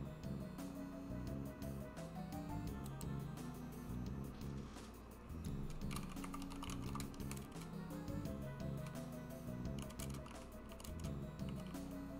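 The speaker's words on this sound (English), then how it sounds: "She keeps pressing keys on my keyboard because she's trying to, like, play around and everything." Computer keyboard keys pressed in quick irregular clusters of clicks and taps, fairly close but quiet, over a low steady background hum, without talk.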